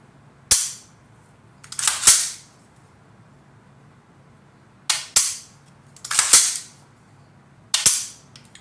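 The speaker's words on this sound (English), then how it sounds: "Press that trigger." A Hyperion Munitions PTC trigger fires a rifle in sharp reports spread over several seconds, some coming in quick pairs, each loud, close and cracking against a quiet background.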